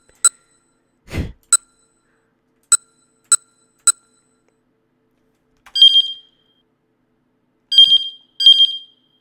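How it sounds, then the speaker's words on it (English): An ear-piercing electronic beeping alarm in the video game 428 Shibuya Scramble: short sharp beeps, then longer shrill tones in pairs with gaps of silence between them, loud and close, with no talk. "Oh man, that's ear piercing. Listen to this. Beep beep beep beep beep beep beep beep."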